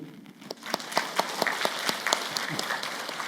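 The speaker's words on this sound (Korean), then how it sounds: "박수" A church congregation claps repeatedly in lively applause, sharp claps scattered over a steady roomy background.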